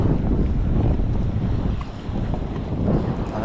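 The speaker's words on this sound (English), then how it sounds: "Oh, that's a nice boat." A boat runs past on open saltwater near a fishing structure, its steady engine rumble and hull wash blending with strong wind buffeting the microphone, close and loud throughout.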